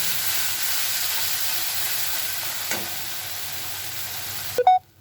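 Stuffing for potol dorma sautéing with salt and sugar in a pan, heard as a continuous close sizzle with a single stir tap midway and a spoon clink just before it cuts off, with no voices.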